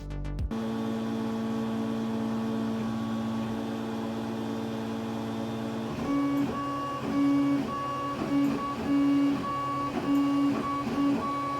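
A 3D printer hums steadily with tonal motor whine, then its movements shift into rapid pitched buzzing steps that sound almost melodic.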